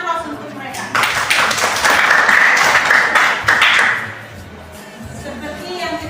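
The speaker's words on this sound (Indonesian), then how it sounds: "Berikan aplaus untuk mereka." Applause for students in a classroom, a burst of clapping from a group that swells for a few seconds and then fades as a teacher's voice resumes.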